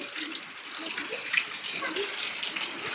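Steady, dense rain pouring and splashing nearby, a continuous hiss with faint voices in the background.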